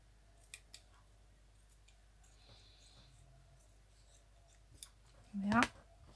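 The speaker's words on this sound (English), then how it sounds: "I'm gonna cut this off now" Scissors cutting through craft material in a quiet room, with a few faint clicks and handling sounds before a single short, crisp snip near the end.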